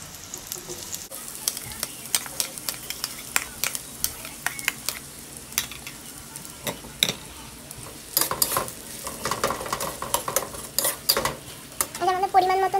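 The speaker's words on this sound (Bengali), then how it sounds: "পেঁয়াজটাকে এবার আমরা ভেজে নেব" Onions frying in a pan while being stirred, a quiet steady sizzle broken by frequent sharp scrapes and clinks of a utensil against the pan, with no one talking.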